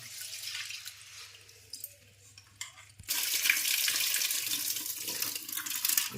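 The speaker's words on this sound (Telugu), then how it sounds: "జొన్నలండి ఇట్లా శుభ్రం కడుక్కోవాలి" Sorghum grains are washed in water. A few faint knocks and rustles come first, then a sudden loud rush of pouring and sloshing water runs steadily to the end, with no voices.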